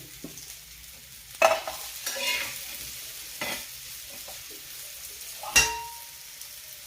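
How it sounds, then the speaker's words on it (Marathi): Coriander vadi fry in a little oil with a soft, steady sizzle. Several sharp spatula scrapes and clinks against the pan stand out over the frying, and no one speaks. "असं थोडंसं तेल टाकायचं आणि असं मस्तपैकी डीप फ्राय करायचं आहे वड्या"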